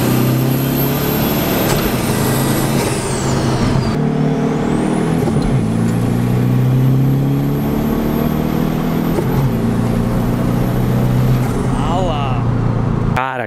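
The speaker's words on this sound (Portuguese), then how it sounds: "Cara, o barulho da turbina, meu Deus do céu." A Volkswagen Beetle with a 1.9 turbo engine drives hard, its loud engine drone joined by a high turbo whine that rises and falls across several gear changes, with brief voices near the end.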